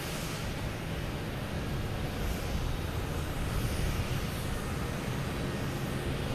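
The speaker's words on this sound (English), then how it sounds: "next to come in is a JetBlue coming in from Nantucket" A JetBlue airliner arriving from Nantucket at Boston Logan Airport, a steady broad jet roar that swells slightly midway, continuous and fairly distant-sounding, with no talk.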